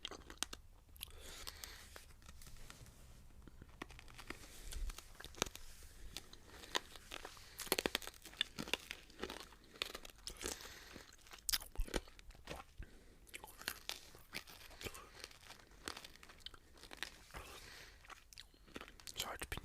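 Hard candies crunched and chewed close to the mic in an intimate whispery setting, with dense crackling bites and wet chewing clicks repeating steadily throughout, no speech.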